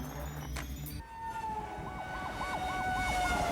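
A fire engine's siren starts up and wails in a rising and falling cycle as the truck is dispatched to a river rescue under the Jamsil Bridge in Seoul, loud and steady over low engine rumble after a brief bell-like tone.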